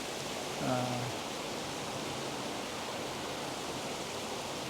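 Claret mountain torrent rushing below a series of check dams, a dense, steady roar of water running throughout, with a brief voice near the start.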